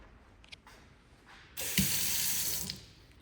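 A faucet turns on partway through and water gushes steadily into a sink at strong city water pressure, loud and close, after a quieter moment of small clinks.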